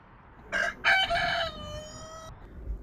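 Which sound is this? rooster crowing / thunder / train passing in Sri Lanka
rooster crowing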